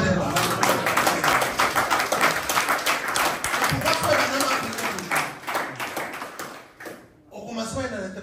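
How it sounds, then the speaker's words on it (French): A congregation applauds during a French-language church service, dense clapping with voices mixed in, sustained and loud for about seven seconds before it briefly drops away and picks up again. "Applaudissez le roi de gloire"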